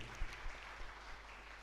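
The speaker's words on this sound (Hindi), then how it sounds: "अब जोरदार तालियों के साथ प्रभु की आराधना करते हैं हमारे स्वामी जी के लिए।" A church congregation applauds during a worship service at Sacred Heart Cathedral, heard as soft, steady clapping that stays faint and distant throughout the short stretch.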